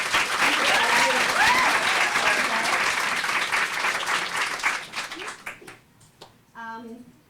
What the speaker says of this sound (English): can we get a round of applause for our friends at Penguin Teen who sponsored this event?